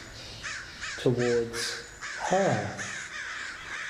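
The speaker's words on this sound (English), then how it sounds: "Dozens, hundreds of crows, all close to each other, were moving together towards" A large flock of crows caws in loud, overlapping calls, with several harsh caws standing out, while a narrator reads a story over them.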